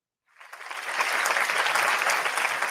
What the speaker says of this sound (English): it was fake applause too